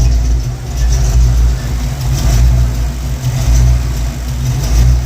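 A 1993 Ford Mustang engine idles steadily up close, a low rumbling drone with slight fluctuations while the owner watches whether it stalls, the fuel pump relay faulty.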